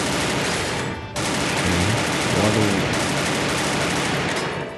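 Dense, continuous automatic gunfire from a Free Fire battle royale match, loud and sustained across the whole stretch with only a brief dip partway through, with a faint voice in the background.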